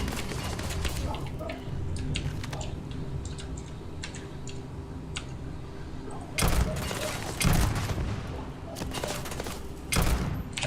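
Grenade blast and rapid gunfire in the Fallout video game, crackling bursts of shots over a steady rumbling background with several louder thumping hits, and a player talking faintly underneath.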